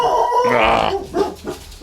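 Several dogs barking loudly and close by in a home, acting as a doorbell, in a burst of overlapping yips and barks that fade into quieter room sound.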